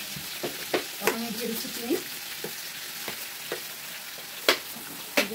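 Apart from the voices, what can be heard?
mango pickle frying in oil while being stirred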